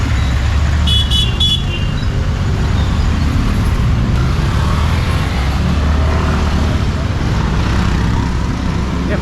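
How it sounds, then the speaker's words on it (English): Busy street traffic in Kathmandu rumbles steadily nearby, cars and motorbikes passing loudly, with a quick burst of short horn toots early on. "So now look at this traffic."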